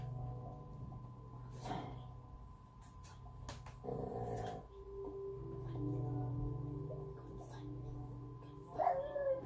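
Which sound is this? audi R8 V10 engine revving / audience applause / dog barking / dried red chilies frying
dog barking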